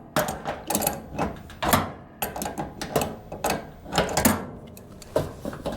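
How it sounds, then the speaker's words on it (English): A wrench works loose the fitting on an RV propane stove regulator, giving repeated close metallic clanks and ratcheting scrapes in uneven bursts. "I'm only using one wrench to loosen this."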